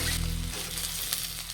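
Tomatoes dropped into a pan of fried cumin, coriander, chilli, ginger and garlic paste for a potato-tomato fish curry, a close, steady frying sizzle with a brief stir.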